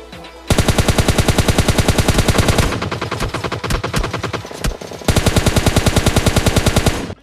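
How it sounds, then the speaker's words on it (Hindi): Rapid bursts of automatic gunfire in PUBG Mobile Lite, loud and close, firing in long sustained strings with a brief softer stretch in the middle before another sustained burst. "कुछ बंदे होते हैं भाई जो अपार्टमेंट की तरफ फायर कर रहे होते हैं"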